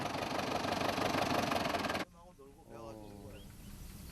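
A tractor engine runs loud and steady with a rough, knocking rumble for about two seconds, then drops away abruptly, leaving quieter background and people talking.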